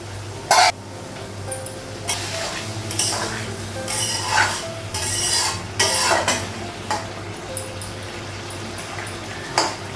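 A cooking pot's lid is lifted in a home kitchen where potatoes and pointed gourd are boiling, giving a few sharp metallic clanks and scrapes over a low steady sizzle and bubbling.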